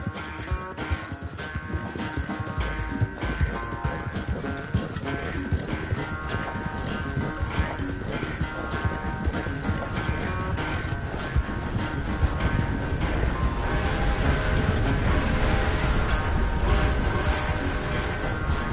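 Horse hooves gallop in the Red Dead Redemption video game, a steady rapid clip-clop running throughout under layered music and ambience, loud and close.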